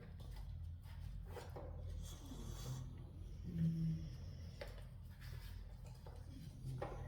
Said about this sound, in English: If you hear those little noises, that's Milo snoring.